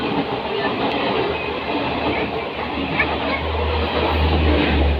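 A train runs along a railway, giving a continuous loud rumble with rhythmic clatter of wheels on track and a deep low drone that strengthens toward the end.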